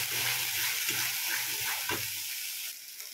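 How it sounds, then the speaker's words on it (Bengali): Spice paste sizzling in a pan as salt and turmeric go in, a soft continuous frying hiss with some stirring movement, fading slightly toward the end. "এই যে বাটিতে নুন হলুদ রেখেছিলাম, সেইটা এবার দিয়ে দেব, দিয়ে ভালো করে ভাজবো"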